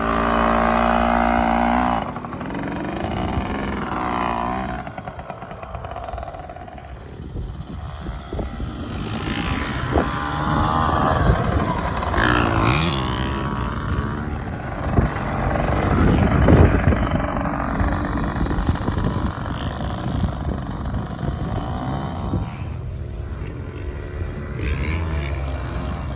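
A Yamaha PW80 dirt bike ridden by a seven-year-old on a flat backyard track, its small two-stroke engine buzzing steadily and rising and falling with throttle, fairly close and continuous throughout with no talking.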